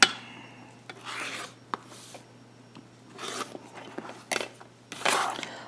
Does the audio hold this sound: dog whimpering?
no